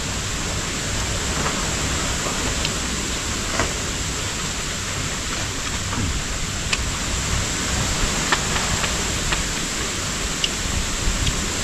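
Steady rain pours by a river during a fishing trip, a dense, even hiss close by with occasional faint drips and ticks standing out.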